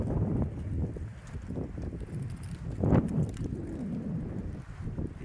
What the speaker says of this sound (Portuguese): E Deus fazendo rajadas de vento.